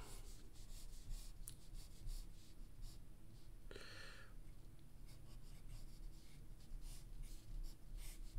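Pencil scratching and rubbing across paper during a figure-drawing exercise, a steady close scritching texture that runs throughout with small variations in pressure and no talk.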